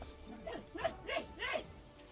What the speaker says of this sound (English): That's a cute little doggy.